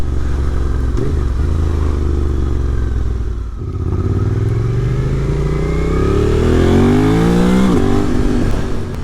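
A loud Suzuki V-Strom 800 motorcycle engine with aftermarket exhaust rumbles nearby, then revs up with rising pitch through several gear changes, the exhaust note deep and throaty.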